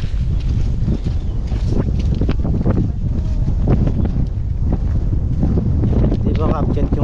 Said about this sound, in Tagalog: Lakas lang hangin dito ha. Mahangin. Mahangin. Sobrang hangin.